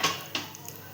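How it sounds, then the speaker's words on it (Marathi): A metal lid is lifted off a pan in a home kitchen while cooking a sweet-sour buttermilk pancake dish, with a sharp clink at the start and a second lighter clatter, close and fairly quiet. "झाकण काढूया आपण."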